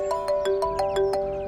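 A phone rings in a home setting with a repeating electronic tone, evenly pulsed about six times in quick succession, clear and alone with no talking.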